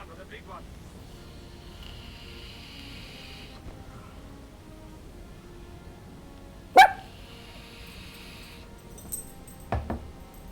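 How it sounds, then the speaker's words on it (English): A dog named Bowser barks a few times: one sharp close bark, then a couple of quicker yips near the end, over quiet background. "You don't have to bark at every dog that barks."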